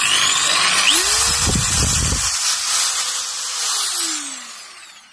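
An old first-generation green Worx cordless drill, its switch needing a half press to respond, runs with a loud whirring motor whine that rises and falls in pitch, heard close up with no talking.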